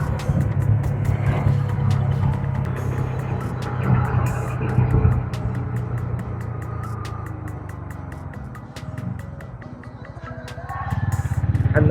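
A motorcycle on a hill road ride toward Chikka Devamma Betta roars steadily with rising and falling revs, a loud close engine drone with wind and road rumble and a few faint ticks, no speech over it.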